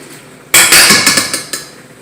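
A spoon stirring pasta in a large pot, with loud, close metallic clanks and scrapes against the pot in a quick, uneven series after a brief quiet start.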